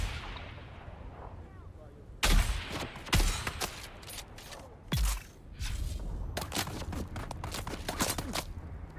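Gunfire in the Dune video game arrives as several sharp shots and bursts, loud and close, set against a steady rumbling game background with scraping and movement noises between them.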